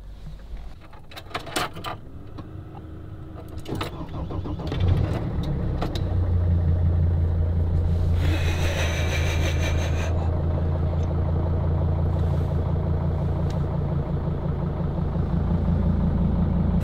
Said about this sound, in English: Now the only thing left to do is to start the engine